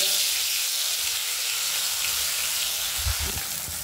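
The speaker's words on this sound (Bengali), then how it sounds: "যে মশলাটা দিয়ে মা ম্যারিনেট করে রেখেছিল সেটা দিয়ে মা ফ্রাই করে নেবে" Marinated rohu fish pieces frying in hot oil, a steady loud broadband sizzle throughout, with a few low thumps near the end as pieces are added or moved.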